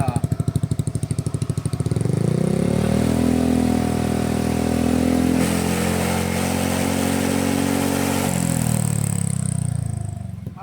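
A motorcycle fitted with a power pipe muffler revs up from a rough idle to a sustained high-rpm roar around 2,000 to 3,000 rpm, holding loud and steady before dropping back down.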